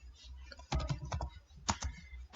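Keys clatter on a computer keyboard in quick irregular bursts of close, crisp taps during the typing of PHP code, with short pauses between clusters and no voice.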